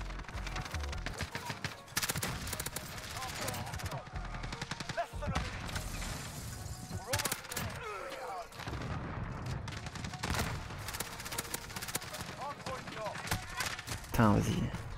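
Rapid gunfire from a multiplayer shooter game rattles in dense, repeated bursts through the whole stretch, with a voice talking over the shooting and game effects.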